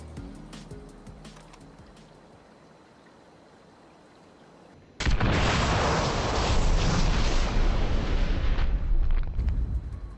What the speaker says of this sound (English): we can take a quick shot at it and ignite the gas